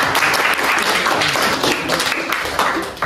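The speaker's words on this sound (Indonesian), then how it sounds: "beri tepuk tangan dong" A classroom of students claps together in a loud, busy round of applause that continues throughout.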